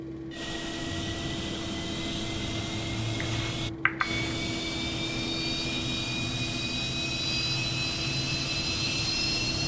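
A steady jet engine whine and hum from a Fokker F28 jet engine starting up in Microsoft Flight Simulator, rising tones above a constant drone, with a brief click partway through and no voices.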